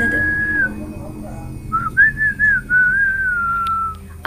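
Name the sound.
person whistling while walking (horror story sound effect)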